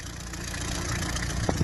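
A 1998 Volkswagen Caddy van with a 1.9 SDI diesel engine idles, a steady low rumble that holds even and close, ending with a couple of faint clicks.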